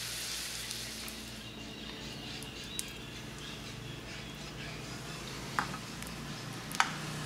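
Vegetarian hamburger patties frying gently over low heat in a pan, a faint, steady sizzle with a few small pops and ticks, and no talking.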